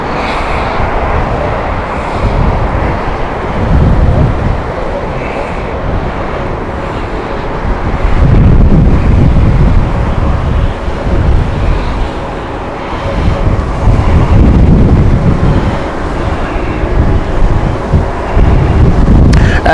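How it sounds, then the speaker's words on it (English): Strong gusty wind at Heathrow Airport buffeting the microphone, a loud, continuous roar that swells and eases in waves for about twenty seconds, with no voices. "I don't know if you can hear the wind in the background."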